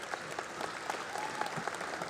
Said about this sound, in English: Let's give our board members a big round of applause.